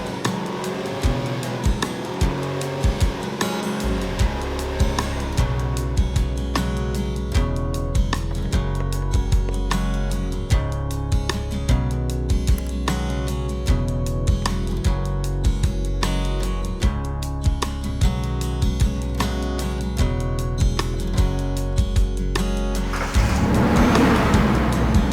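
A 1976 Ford F-100 pickup's V8 with a loud exhaust rumbles and revs continuously at a show-and-shine loudest-exhaust competition, deep and sustained with rising and falling pitch, ending in a harsher burst.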